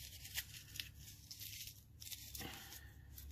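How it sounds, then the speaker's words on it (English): A paper doily being crumpled and destroyed by hand, giving a soft, close crackling and rustling that runs irregularly throughout with a few sharper crinkles. "I'm gonna crumple up. Just destroy this doily."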